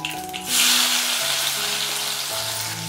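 Chopped onions hitting hot oil with popped mustard seeds and fenugreek set off a loud, steady sizzle that swells abruptly and holds, with faint stirring beneath and no talk.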